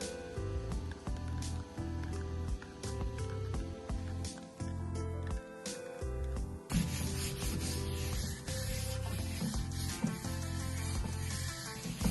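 A Scotch-Brite pad lightly scuffs freshly painted parts of a 1934 Ford hot rod during a fake rust patina job. Continuous gritty rubbing runs beneath loud background music.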